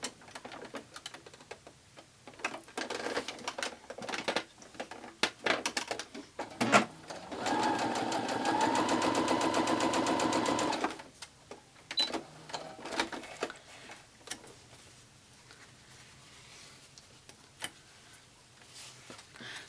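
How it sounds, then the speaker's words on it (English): A Baby Lock Jubilant sewing machine stitches quilt blocks together, a rapid, even whirring run of a few seconds in the middle, framed by quieter fabric handling and clicks. "I'll continue to sew them all on my Baby Lock Jubilant"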